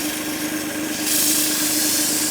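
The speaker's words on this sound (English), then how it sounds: "Up and underneath your work, sanding off any markings that are left" Sandpaper held against spinning wood on a lathe gives a continuous close rubbing hiss over the low, steady hum of the machine, brightening slightly partway through with no pauses or talk.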